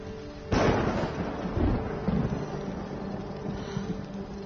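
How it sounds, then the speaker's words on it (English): Thunder from an approaching storm in a TV drama: a sudden loud rumbling crack followed by several rolling booms that fade into a steady low wind-like roar. "Storm's coming."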